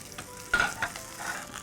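Chicken for teriyaki tacos frying in a pan, a brief quiet sizzle with a few scraping stirs and a light clink of utensil on metal.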